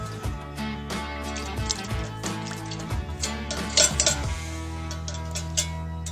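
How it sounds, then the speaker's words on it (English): Dishes, cutlery and mugs clink and clatter repeatedly while being washed in a kitchen sink, close and irregular, with water running underneath and no talking. "The dishes are done, man."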